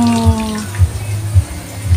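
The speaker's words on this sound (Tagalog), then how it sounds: "lalagyan na natin siya ng kaunting tubig" Water is poured into a tuna box used for growing lettuce: a close, splashing flow with soft, regular low thumps about every half second.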